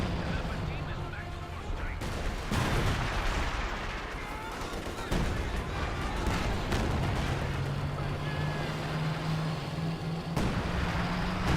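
Artillery fire in the Company of Heroes 2 strategy game, with dull booms and gunfire bursts over constant battle noise and engine rumble, while a commentator talks throughout.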